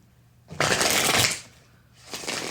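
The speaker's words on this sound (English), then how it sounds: "One more good shuffle" Tarot cards being shuffled by hand, one long riffling burst followed by a shorter second riffle, close and clear with no talking.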